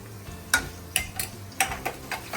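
Ginger and garlic paste frying in a pan over medium to high flame, stirred with a utensil: a soft background sizzle with about six light scraping taps at an uneven rhythm, close and quiet, no talking.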